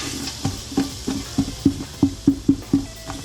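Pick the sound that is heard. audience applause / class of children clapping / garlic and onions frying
garlic and onions frying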